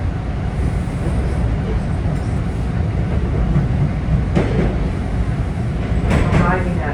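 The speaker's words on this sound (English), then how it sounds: "Arriving at Islington Station." A Toronto TTC Line 2 subway train rumbles into Islington Station, a loud continuous low roar of wheels and motors heard from the cab, with a few brief rail clacks and squeals rising out of the steady noise.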